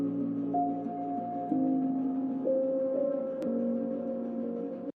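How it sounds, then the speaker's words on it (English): Melodic house keys in Ableton: a soft piano line over two sustained synth pads, warm held chords that shift every second or so, steady and smooth with no voices. "the piano, and both pads ended up sounding like this."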